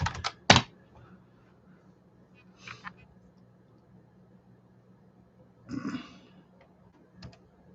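Scattered keystrokes on a computer keyboard, a sharp loud cluster near the start, then sparse bursts of typing with quiet gaps, recorded close in a quiet room.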